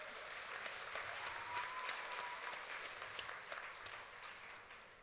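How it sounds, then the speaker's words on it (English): Crowd at the 2022 Choctaw Nation Princess Pageant gives a runner-up a round of applause: sustained, somewhat distant clapping from many hands, swelling slightly then easing off, with no talk. "another round of applause for our first runner-up"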